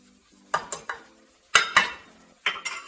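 Flaked cooked mackerel is stirred into slaw in a bowl, heard as sharp scraping clinks of a utensil in three quick bursts, each a cluster of two or three strokes, close by with no talk.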